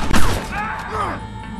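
A single sharp gunshot from a revolver-style weapon in Red Dead Redemption cracks at the start, followed by a brief ringing tail and ambient game noise.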